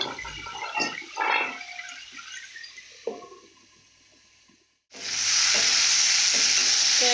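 Crab pieces frying and being stirred in oil in a pan, with scraping stirs and a steady sizzle that cuts out briefly before a loud, bright hiss surges back and holds to the end.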